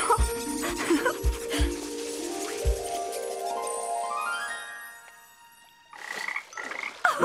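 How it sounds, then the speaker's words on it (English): Cartoon frog croaking in a children's colour-learning show, a series of loud rhythmic croaks alongside rising musical tones and jingles, with a brief quieter pause before a few more bursts of croaking. "Still not found your family, little frog?"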